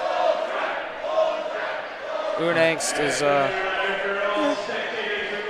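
A crowd chanting at a boys high school basketball game against Hillsborough, rhythmic massed voices echoing in the gym behind a commentator's talk.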